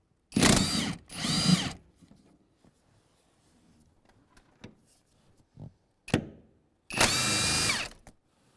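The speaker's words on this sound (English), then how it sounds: "we have two 14 millimeter bolts. Go ahead and take those out now." A power tool on an Acura MDX runs in short bursts as two 14 mm bolts come out, with two quick whirs at the start, then a quiet gap with small clicks and handling taps, and a longer run near the end.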